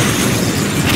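A dense, roaring particle cannon blast booms from a Command & Conquer Generals Zero Hour skirmish, loud and sustained across the whole moment.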